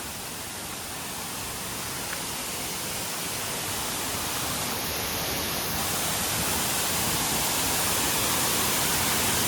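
The Ghonsari Sapatwadi waterfall roars steadily as a loud, unbroken wash of rushing water, constant and close, with no other sounds standing out.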